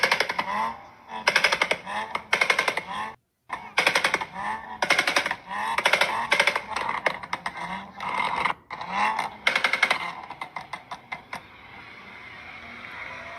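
A car muffler roars in rapid bursts of loud, crackling, staccato revving, cut by brief gaps, then settles into a quieter steady drone near the end.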